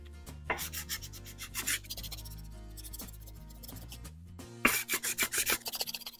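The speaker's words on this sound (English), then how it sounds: "this sandpaper might not be rough enough to do that" Sandpaper rubbed over the painted body of an old Marx engine, heard as a run of quick rasping strokes near the end, with steady music playing throughout.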